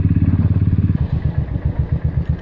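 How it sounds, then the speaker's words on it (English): A motorcycle cruising along empty roads, its engine putting out a steady, close, pulsing putter with a rhythmic thump that shifts slightly partway through. "It feels nice to cruise on these empty roads with this motorcycle"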